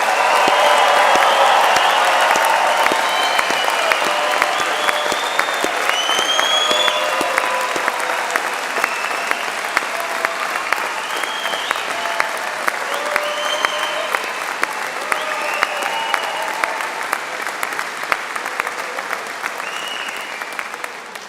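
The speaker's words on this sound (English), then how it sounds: "give them one final raise the roof round of applause" A packed graduation hall gives students a long, loud ovation, dense clapping sustained for many seconds with scattered cheers and whoops rising over it before slowly thinning.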